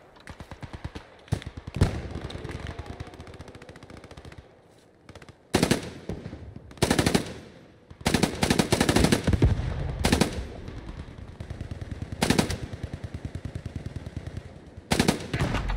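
FG42 machine gun from Post Scriptum firing repeated loud close bursts of automatic fire, with short gaps and one longer pause between volleys, no talking.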